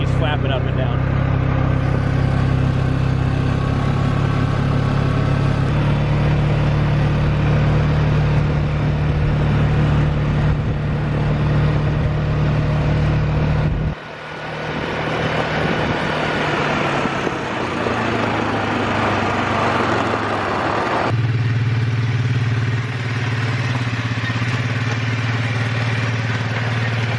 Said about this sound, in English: That's what I was expecting to hear when I first got this machine. A more quiet engine.